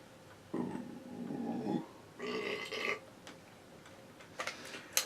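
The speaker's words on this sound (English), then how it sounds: "Are you going to edit out my burps?" A person burps twice, each burp a low, fairly close gurgle lasting about a second, with faint ticking and small sounds in the background of a quiet room.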